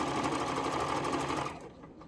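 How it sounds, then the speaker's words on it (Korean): A Juki DX7 sewing machine stitches a decorative stitch combination with a steady, rapid mechanical whir, then winds down and stops on its own near the end. "저 끝에 왕관까지 놓으면 재봉틀이 저절로 멈출 거예요."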